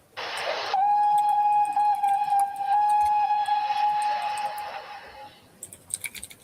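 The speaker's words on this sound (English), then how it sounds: "in the distance, an engine's whistle could be heard." A single long steam locomotive whistle, from a Somerset and Dorset 7F, sounds after a short hiss of steam, holding one steady tone for about five seconds at moderate distance before fading into quiet rumbling.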